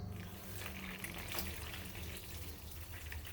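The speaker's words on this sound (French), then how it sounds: "Et après nous allons mettre de l'eau." Water is poured steadily from a tap into egg-free pancake batter, a soft continuous splashing and trickling heard up close without talk.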